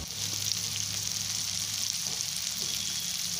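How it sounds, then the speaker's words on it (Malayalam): Fish wrapped in banana leaf frying in a little oil in a pan, a continuous, moderately quiet sizzle that holds steady from start to finish, with no talking. "ഇനി നമുക്ക് അല്പം എണ്ണ ഒഴിച്ച് ഫ്രൈ ചെയ്തെടുക്കാം"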